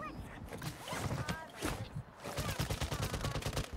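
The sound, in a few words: gunfire in the video game Warzone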